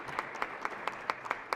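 Applause in the Maryland Senate chamber during a floor session: steady, evenly spaced claps, moderately loud, with no voices over them.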